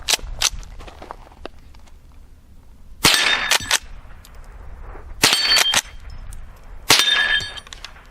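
A Rossi Gallery .22 pump-action rifle fires CCI Mini Mag rounds outdoors: about six sharp, loud cracks, some in quick pairs, with a metallic clang after several shots and quiet gaps between them.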